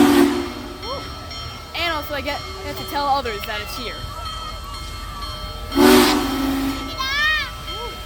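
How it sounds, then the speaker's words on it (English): Union Pacific Big Boy steam locomotive whistle sounding in two loud bursts at a stop in Big Sandy, Texas, with hissing steam and people talking nearby throughout. "That is the train's whistle."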